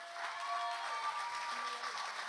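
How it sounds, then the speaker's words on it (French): A church congregation applauds steadily throughout at a Sunday celebration service, the clapping dense and even, with faint sustained tones in the background. "On peut les remercier, on peut les applaudir."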